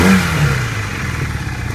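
A 1982 Honda CB450 motorcycle engine runs steadily close by, with a low, uneven throb and a brief louder rev at the start before it settles.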